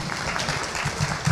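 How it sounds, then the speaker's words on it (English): Audience at a public education advocacy forum clapping for a panel, a brief, steady burst of many hands, fairly loud and continuous throughout. "I'd like huge round of applause."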